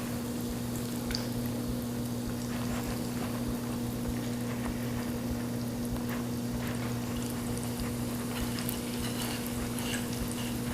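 Green bean fries sizzling in hot oil in a pan, a steady faint crackle and hiss with no talk over it.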